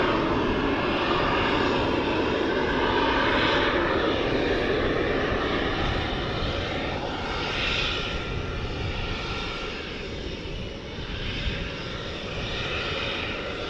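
A Boeing 777 airliner departing for London, its engines giving a steady, broad jet roar at moderate distance that swells and fades slightly, with no voices.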